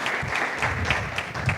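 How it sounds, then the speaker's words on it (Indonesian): Congregation applause at a church service, a brief dense wash of many hands clapping with faint voices mixed in, steady and moderately loud throughout. "yang mau berikan tepuk tangan meriah buat Tuhan kita"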